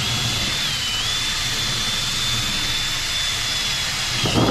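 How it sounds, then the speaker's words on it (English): A wire wheel spins against a Jeep TJ rear driveshaft yoke, cleaning it during a U-joint replacement, giving a loud, continuous high-pitched whirring grind that holds steady throughout, with a brief heavier scrape near the end. "just hitting it with a wire wheel, just getting in here"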